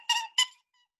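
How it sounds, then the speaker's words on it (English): A rabbit gives two quick, sharp squeaks in close succession, close and clear, followed by near silence. "Good, it's a rabbit."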